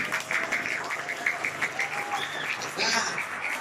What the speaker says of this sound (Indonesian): Tepuk tangan dulu buat Muhammad Taufik.